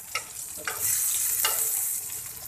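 Eggplant slices frying on a tawa griddle, a steady close sizzle with brief stirring or scraping bursts, no talking.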